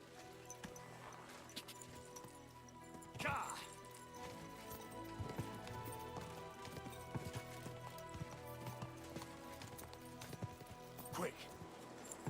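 Horse hooves clip-clop at a steady pace in the medieval game Kingdom Come Deliverance 2, mixed with background music and game sounds, with a couple of louder bumps along the way.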